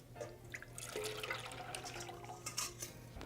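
Wet batter of eggs, milk and yellow mustard poured from a bowl into a small pan, a soft continuous liquid trickle with faint drips over a low background hum.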